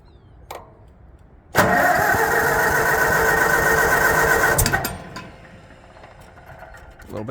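An old engine with the choke set cranks briefly, then catches and roars loudly at a steady run for about three seconds before dropping back, with quieter mechanical noise afterward.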